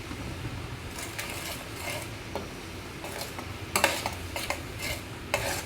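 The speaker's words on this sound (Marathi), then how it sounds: "हे सर्व सारण आपल्याला तेलामध्ये छान परतून घ्यायचे आहे" Ginger garlic paste and masala sautéing in oil for a Marathwada-style curry, a quiet sizzle under repeated spoon scrapes and stirring clinks against the pan, close up, with no voices.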